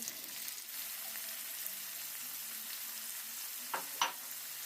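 Onion, tomato and green chili fry in a pan with a quiet, steady sizzle, ending in two brief louder scrapes of stirring close by.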